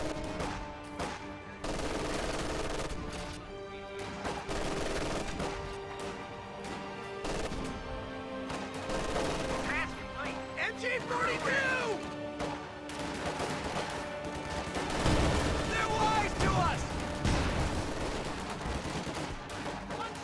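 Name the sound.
gunfire and machine guns in a video game battle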